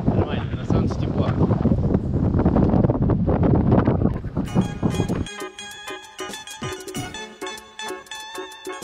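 Wind gusting on the Caspian Sea shore near Primorsky in Dagestan, a loud broadband rush with buffeting on the microphone for about five seconds, then easing into quieter wind with sharp clicking and tonal knocks.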